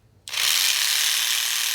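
A Dremel rotary tool fitted with a jigsaw attachment switches on abruptly and runs with a loud, steady high-pitched whine and buzz, close up and alone.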